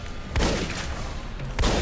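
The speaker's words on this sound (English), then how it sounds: "Oh man, the shotgun is" Two sharp, loud shotgun blasts roughly a second apart ring out from the video game Fallout New California over a steady bed of game ambience.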